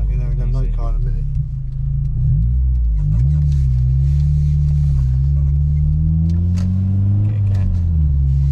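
Honda Civic EP3 engine revving hard in second gear while driving, a loud sustained low drone that climbs and falls in pitch through the run.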